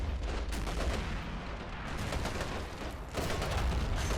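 25-pounder field guns firing in a Siege of Tobruk fort-defence war game, a dense roll of booming shots and battle noise that keeps going with no gaps, loud and steady throughout.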